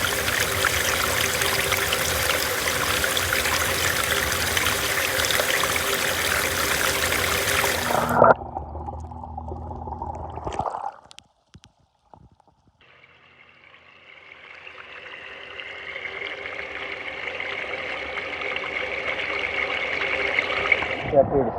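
Water rushes steadily through a gold prospecting sluice, then abruptly cuts out into a brief near-silence with faint gurgles before a softer flow builds back up.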